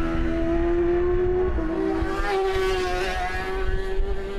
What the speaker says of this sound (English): Watching them come out of turn 11 here under full throttle onto the front straightaway